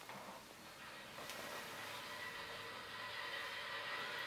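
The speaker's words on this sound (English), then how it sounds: "And this locomotive is loud, so I might have to mute it" An MTH ES44AC GE Evolution model locomotive runs with a faint, steady electric hum and a thin sustained whine, quiet and continuous throughout.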